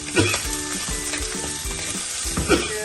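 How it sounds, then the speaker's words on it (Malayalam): Ginger, shallots and garlic sizzle steadily while being stirred in a clay pot for fish curry, with a few scraping and clinking utensil knocks over continuous frying noise and no talk. "ഇഞ്ചി, ചെറിയ ഉള്ളി, വെളുത്തുള്ളി എല്ലാം നന്നായിട്ട് അങ്ങോട്ട് മിക്സ് ചെയ്യും."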